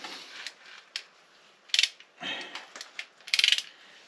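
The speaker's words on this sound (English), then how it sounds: "So I'm going to go ahead and adjust my torque wrench up to 52 foot-pounds." A torque wrench is adjusted to 52 foot-pounds while installing an aftermarket part on a Can-Am Maverick Sport Max, giving close, quiet ratcheting clicks and metallic ticks in short irregular bursts.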